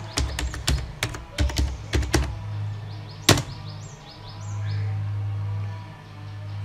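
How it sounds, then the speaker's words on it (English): Quick bursts of computer keyboard typing on a Linux computer, sharp close key clicks in irregular clusters with one harder keystroke, then a quiet stretch of low hum and faint electronic beeps. "you hit enter and type your computer password"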